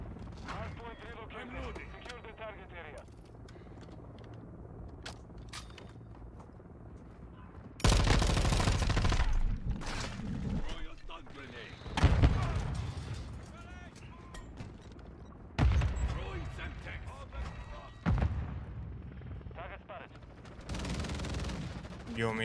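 Light machine gun fire, a RAPP H, in the video game Call of Duty MW2: loud bursts of rapid automatic shots arrive in several separate volleys, with quieter game sounds and possible voices between them.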